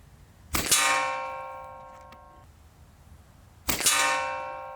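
An Artemis M16A PCP air rifle fires 14.35-grain pellets at a target 50 yards away. Two sharp shots each end in a bright metallic clang that rings briefly, with a quiet pause between them.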